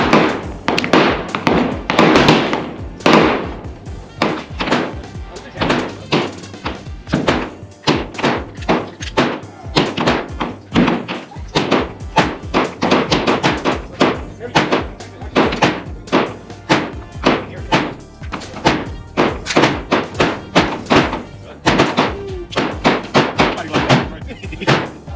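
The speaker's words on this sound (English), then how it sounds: "All right, we got the Taurus G3 9mm. Gonna test fire it down range today." Taurus G3 9mm pistol test-fired at an outdoor shooting range: a long run of sharp, loud shots in uneven quick succession, some nearby and some from other shooters, with brief gaps between strings.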